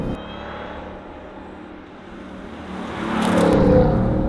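A 2025 Ford Mustang GTD's supercharged V8 builds from a low, distant rumble to a louder rising rev and whoosh near the end, heard from outside the car on a straight.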